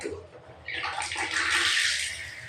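Water gushes from a tap in a bathroom where plumbing work has just been finished, starting with a low trickle and swelling into a loud, steady splashing rush close by.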